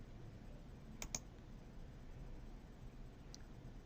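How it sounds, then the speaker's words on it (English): A computer mouse makes two quick, faint clicks close together, then one more after a short pause, over a quiet background. "To create a schema, simply click on New button here."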